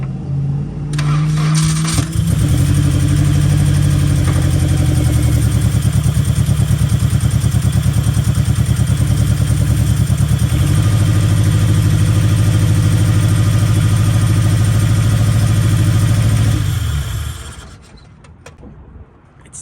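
A freshly built Honda K24 engine cranks briefly, catches and settles into a loud, steady idle, running close and continuous for about fifteen seconds before cutting off abruptly into quiet.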